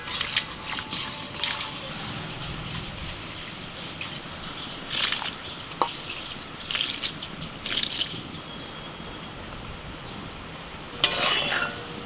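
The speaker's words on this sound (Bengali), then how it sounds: "কড়াইতে অল্প সর্ষে তেল দিয়েছি ওর মধ্যে ফোড়নে দিচ্ছি দুটো শুকনো লঙ্কা আর একটু কালো সর্ষে" Dry red chillies and black mustard seeds crackle in hot mustard oil in a kadai on an outdoor stove on a windy day. A steady close sizzle is broken by several sharp bursts of spattering and stirring.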